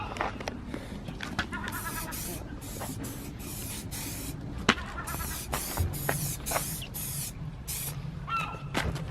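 Repeated hissing bursts of spray paint laying a first coat of black on parts of a Nissan Silvia S15 Spec R import, close and steady with short pauses between passes.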